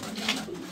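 Pigeons at a loft during a racing-pigeon release, a single soft, low coo over a steady background hum, brief and at moderate distance, with no talking.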